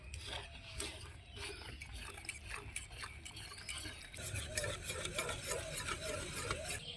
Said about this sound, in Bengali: এখন উপকরণগুলো ভালো করে মিশিয়ে নেব